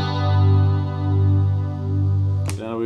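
A guitar in an open tuning for a rock song rings out with a sustained chord that swells and wavers with a chorus-like shimmer, close and loud, ending in a fresh strum near the close.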